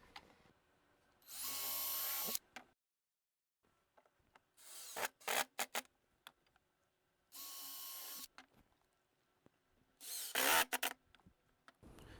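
A power drill bores into plywood in four separate bursts, each a few seconds long, with quiet pauses and small handling knocks between them.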